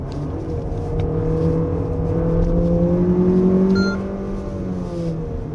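Engine note of a 2024 Lexus RX500h F Sport Performance on a winding road: a steady, moderately loud hum that rises and falls in pitch through a corner, heard from inside the cabin with no talking.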